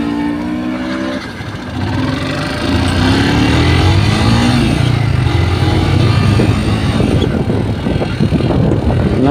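A motorcycle engine catches after a brief start and settles into a loud, rough running note with some revving, close to the microphone with wind noise over it, outdoors on a road in Assam.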